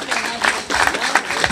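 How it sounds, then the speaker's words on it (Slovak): Village festival audience applauding a former primary school headmistress, a short outdoor burst of clapping with uneven swells, fairly loud and close. "poprosím potlesk"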